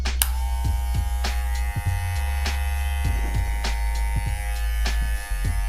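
A Deber Lite cordless hair clipper runs close up with a continuous electric buzz and hum. Faint clicks and small handling knocks sound over the steady drone.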